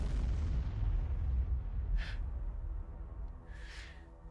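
Ship weapons in the video game Void War fire at enemy shields, giving a rumbling low blast that fades, followed by two short sharp bright zaps about a second and a half apart, with no voices.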